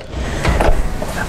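The rear door of a Polestar 3 car closes with one short, muffled thump up close, softer and less sharp than a slam.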